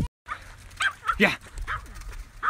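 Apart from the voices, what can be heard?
dog barking excitedly in water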